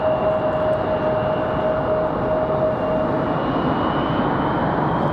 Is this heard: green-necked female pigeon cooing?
no